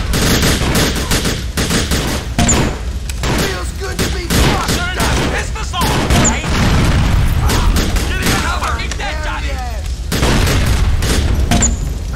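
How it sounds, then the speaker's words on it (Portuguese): Gunfire and a booming grenade blast in GTA 4: The Lost and Damned, dense bursts of shots and explosions running throughout, loud and close, with voices talking over the chaos. "Toma nossa granada aqui,"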